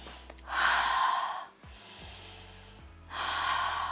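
Slow, deliberate breathing, drawn in through the nose and let out through the mouth, with loud close breaths separated by a brief quiet pause.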